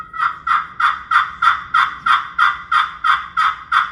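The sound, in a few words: hen turkey yelp on a hickory striker friction call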